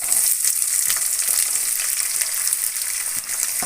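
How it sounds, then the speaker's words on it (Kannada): Onions and dried red chilies with chana dal and urad dal frying in a pan for fenugreek pulao, giving a steady, close, continuous sizzle with light stirring and no speech. "ಸ್ವಲ್ಪ ಈರುಳ್ಳಿ ಚೆನ್ನಾಗಿ ರೋಸ್ಟ್ ಆಗಲಿ."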